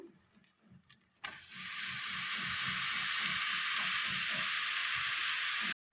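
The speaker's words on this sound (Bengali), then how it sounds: "আমি বাঁধাকপিটা কষিয়ে নিয়েছি মশলা দিয়ে" Cabbage, potato and peas cooking with spices in a pan: a quiet rhythmic tapping first, then a sudden loud, steady frying hiss that holds without a break until an abrupt stop.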